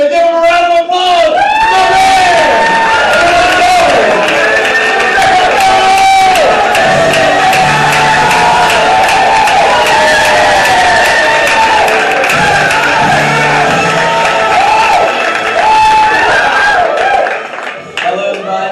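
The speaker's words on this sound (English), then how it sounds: "Give him a round of applause." A comedy club crowd at a college stand-up night applauds, cheers and whoops loudly and steadily for nearly twenty seconds, a dense roar that only thins out at the very end.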